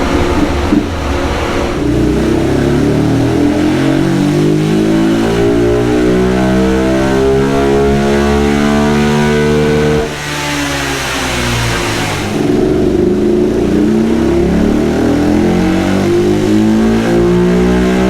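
A Honda 400EX ATV engine with a new exhaust revs hard on a dyno, sweeping up through the rev range in long rising pulls, dropping briefly, then climbing again, loud and close with no talk.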